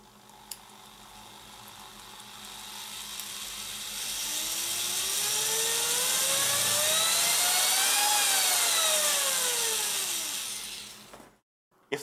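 A repaired power tool motor with variable speed control spins up gradually, its whine rising in pitch to a loud peak, then winding down and cutting off, close and alone.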